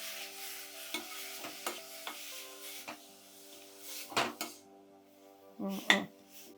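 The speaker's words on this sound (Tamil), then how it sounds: "ரெண்டு நிமிஷத்துக்கு இப்படி கிளறி விடும்போது நமக்கு பாருங்கள் அதோட சேர்ந்து அந்த தொக்கு மாதிரி வர ஆரம்பிச்சிடும்" A spoon stirs curry leaf thokku with tamarind water in a pan, giving scattered scrapes and clinks against the metal, louder bursts near the end, with a low steady hum underneath.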